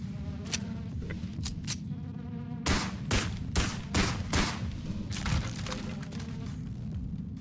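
Gunfire in the VR game Bonelabs: a run of sharp shots, a few spaced ones early, then a fast cluster of loud bursts in the middle, over a constant low game hum.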